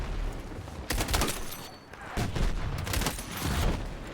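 Mortars fire in Battlefield multiplayer, a run of booming blasts in quick succession, loud and close, with short gaps between bursts and a dull rumble underneath.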